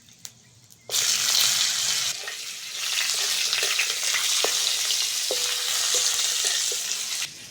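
Bitter gourd frying in hot oil with bay leaf, dried red chilli and five-spice in a pan for Bengali shukto; a loud, steady sizzle bursts in after a quiet second and continues with occasional stirring clicks, no talk.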